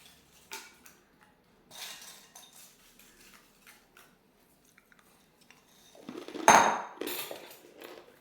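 Crisp fried pita bread pieces tipped into a bowl of fattoush salad, scattered light clinks and rustles, then a louder crunchy clatter around the six-second mark as the pieces land and settle.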